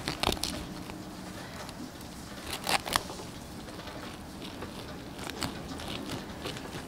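Crisp crackling crunches come in small clusters as a knife slices through crispy fried pork belly, close and fairly quiet, with no talk.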